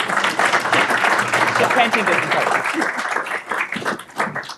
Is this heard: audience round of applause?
yes